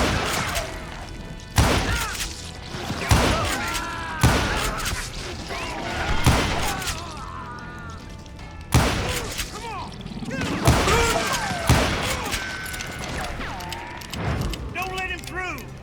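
Rifle gunfire in the video game Call of Juarez Gunslinger: a string of loud, sharp shots spaced a second or two apart, with crashes and game effects between them, under occasional voices.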